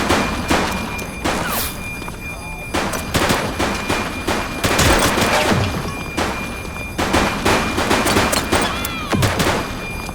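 Gunfire in the police video game The Precinct, loud sharp shots cracking out in irregular clusters with brief pauses, close and repeated throughout over a steady background hum.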